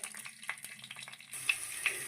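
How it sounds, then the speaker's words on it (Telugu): Tempering seeds sizzle and crackle in hot oil in a pan, a close, steady frying hiss with a few sharper pops near the end and no talk. "నూనె వేడెక్కింది, తాలింపు గింజలు వేస్తున్నాను."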